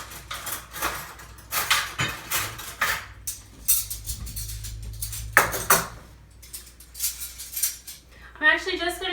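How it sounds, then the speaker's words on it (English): Silverware clinks and clatters as it is set out on a dining table, a string of sharp metallic taps and rattles in short bursts, fairly close, with a brief voice near the end. "Let's put some silverware out"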